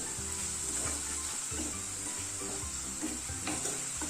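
Small chicken pieces fry over a high flame with turmeric and salt, a steady close sizzle layered with occasional stirring scrapes throughout, no voices.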